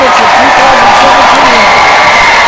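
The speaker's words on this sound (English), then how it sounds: "let's have one gigantic round of applause for all the graduates of" Applause and cheering from a crowd at a 2017 mechanical engineering graduation ceremony, a dense, loud, sustained wash of clapping with some whoops layered over it.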